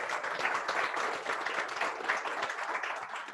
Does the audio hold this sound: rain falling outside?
no